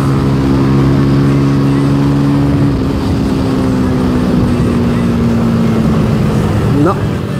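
A Bajaj Rouser 220cc motorcycle is ridden to warm up its tyres, with a steady close engine drone whose pitch slides slowly downward and a brief rise near the end, all under continuous wind noise.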